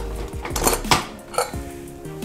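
Metal clanks and scrapes of a pressure cooker lid being twisted and lifted off after the steam has gone, a few sharp clinks close by with no talking.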